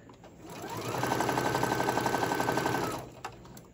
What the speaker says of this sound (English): I'm gonna go ahead, sew to that end